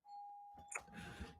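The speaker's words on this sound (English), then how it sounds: "somebody's ringing my doorbell and I'm not sure why" A household doorbell sounds alone: a sustained tone followed by a brighter two-note ding-dong chime, clear and fairly close.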